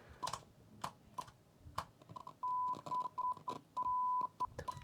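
Sharp clicks and crackles from a worn tape source selector switch on a Technics SA-101 stereo receiver, several separate snaps followed by a steady tone that cuts in and out as the faulty contacts make and break.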